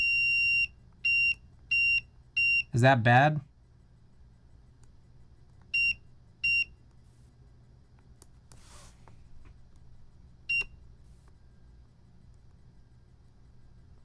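A continuity tester sounds a series of short, steady electronic beeps as its probes touch pins on a broken JST connector, with a cluster near the start and a few scattered later. A voice briefly speaks over a quiet bench background.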